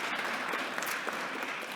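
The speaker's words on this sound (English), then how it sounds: "Let's give Amani another round of applause." Applause from an audience at a press conference: a short, steady burst of clapping from a room full of people, moderately loud and unbroken.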